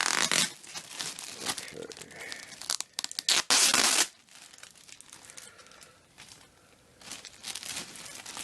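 Packing tape is torn off a package in several quick ripping bursts, loud and close, followed by quieter crinkling of plastic wrapping, with a short spoken word in between.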